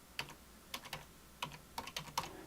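Typing on a computer keyboard, close and clear: several short bursts of rapid key clicks separated by brief pauses, with no voices.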